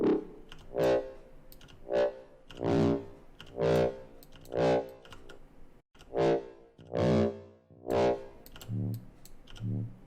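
Processed bass notes run through a feedback distortion plugin, a series of about ten evenly spaced, gritty, buzzing hits with harmonic ringing, each swelling and fading in a steady rhythm.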